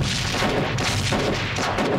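Grenade explosion in the mobile game PUBG Mobile Lite: a dense, loud burst of booming blast noise, continuous and rough across its short length, with no voice over it.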